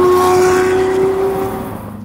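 A Lamborghini Revuelto fitted with a Gintani F1 exhaust revs loud and close, a steady high engine howl that holds and then eases off slightly toward the end.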